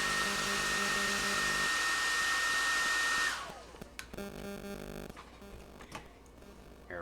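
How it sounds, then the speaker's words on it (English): A hair dryer blows loudly and steadily up close to dry a freshly glued model part, then switches off, leaving quiet room sounds with a few small knocks and clicks. "In fact, I think that I will use the hair dryer."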